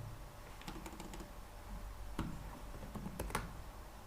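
Keystrokes on a computer keyboard while entering JavaScript code, a few scattered clicks then short bursts of typing, close and moderately quiet over a steady low hum.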